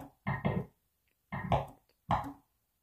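Percussive hits from a drum kit built from pool cue and cue ball sounds, three short, close, dull thumps with a punchy low-mid body, played in a loose rhythm.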